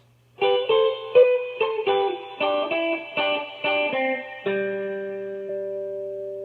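An electric guitar picks a short phrase from a song at an unhurried, slowed-down pace, each note distinct, then settles on a sustained chord that fades slowly.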